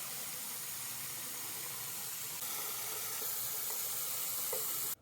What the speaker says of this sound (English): So I let the water run on it for a minute